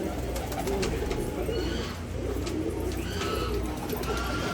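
Many pigeons at a gurdwara coo continuously in a dense, steady chorus, with occasional flaps and chirps over a constant background.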